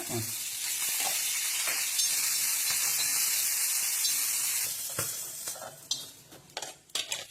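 Washed green chillies frying in a spoonful of oil for tomato chutney, a steady hissing sizzle that fades toward the end, broken by clinks and scrapes of a spoon in the pan.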